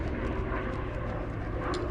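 A Hawker Fury Mk.II, a British Sea Fury-based fighter, roars through a big loop at the Sywell Airshow 2024, its piston engine a steady, continuous broadband drone heard from a moderate distance.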